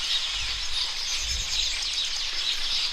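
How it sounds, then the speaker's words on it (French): Birds call near a doctor's house in a rural village, with high chirps and twittering running continuously over a soft outdoor background hum, no voices. "Écoutons un peu les cris des oiseaux"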